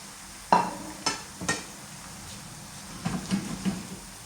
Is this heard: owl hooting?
no